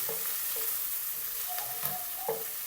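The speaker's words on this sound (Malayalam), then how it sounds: "ചെറിയ ഉള്ളിയിട്ടൊന്ന് മൂപ്പിച്ചെടുക്കാം" Small onions are sautéing in a pan alongside ginger for a Christmas beef dish. A close, steady sizzle of frying fills the clip, with a few faint clinks of stirring over it and no speech.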